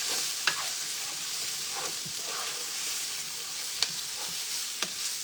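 Bacon and beef fry in a pot for beef bourguignon, making a soft, even hiss of sizzling fat with a few sharp clinks from stirring.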